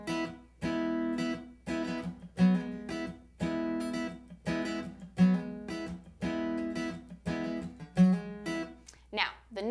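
Guitar intro strummed with loose wrist movement rather than big percussive strokes, a steady rhythmic pattern of ringing chords repeated over about ten seconds, close and alone.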